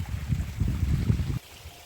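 Irrigation water runs along a furrow into a maize field in a village farm plot, a low, steady trickling flow for over a second before it drops away to near quiet.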